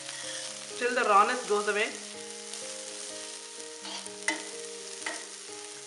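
Methi (fenugreek) fried rice stir-fried in a pan, a soft ongoing sizzle with a few scraping stirs and clinks, while a voice talks over it.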